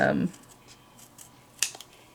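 Scissors snip through card stock in a quiet crafting setting, a couple of short, crisp cuts near the end following a brief burst of voice at the start.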